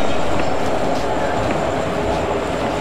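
A train at Kanyakumari railway station makes a continuous, loud rail rumble with faint wheel clatter, close by and steady throughout.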